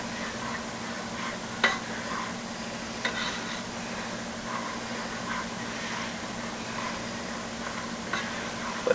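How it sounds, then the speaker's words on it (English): Gumbo roux bubbles and sizzles in a pot, a steady frying hiss broken by a few faint clinks of a utensil against the pot, with no talking. "our roux coming up here, boiling a little bit here"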